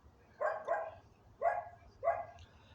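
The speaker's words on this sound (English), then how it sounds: "Someone's dog." A dog barks four times somewhere at a moderate distance, two quick barks and then two more spaced out, over a quiet, low background.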